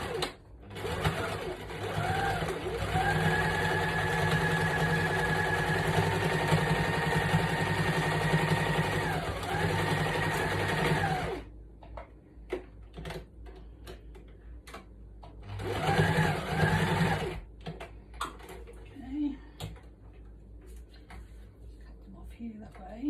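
A sewing machine runs threads up and down a lace junk journal in two bursts, a close, steady motor whir with rapid needle ticks, first long then shorter, with handling noises and quiet pauses between.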